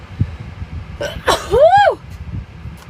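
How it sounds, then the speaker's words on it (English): A single loud, close sneeze with a sharp intake of breath just before it, then quiet background murmur. "I'm gonna sneeze."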